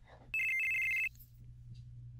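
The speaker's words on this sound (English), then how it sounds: "Answer the dang phone." A phone rings in Final Fantasy VII, one bright electronic trill lasting under a second over a low game background hum.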